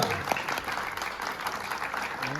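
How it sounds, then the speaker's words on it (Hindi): A theatre audience applauds after a storytelling stage performance at a Chandigarh drama festival, giving steady, dense clapping from a crowd throughout. "जोरदार तालियां"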